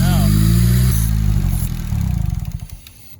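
A rear-wheel-drive Honda-powered car with 1000cc injectors revs hard and loud, then drops away into a rough, sputtering idle with rhythmic pulses as it winds down.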